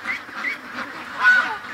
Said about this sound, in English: Got some upset ducks, guys.